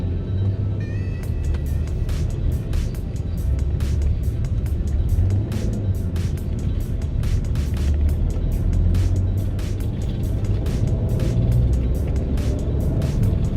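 Steady engine drone from inside a Porsche Cayenne on the road, a low continuous hum with light clicks and road noise, no voices heard.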